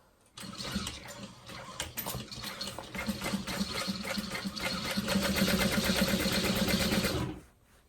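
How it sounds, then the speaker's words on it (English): A sewing machine runs steadily, top stitching a handbag at a long stitch length of 5. The motor whirs with a rapid, even needle rhythm for about seven seconds at close range, then stops. "then we're gonna top stitch. Stitch length of 5."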